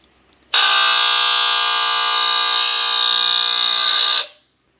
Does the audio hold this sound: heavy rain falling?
no